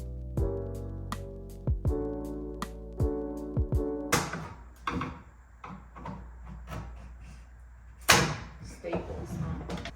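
Doors being taken off and handled during house renovation demolition, with a series of sharp knocks and thumps and a final louder bang, mostly under people talking nearby.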